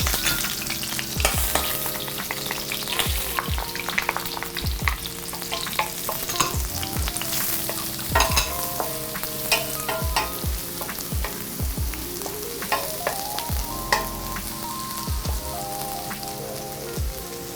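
Garlic and shallots frying in a pan, a dense continuous sizzle and spatter close up, broken by sharp clicks and scrapes of stirring across the whole stretch.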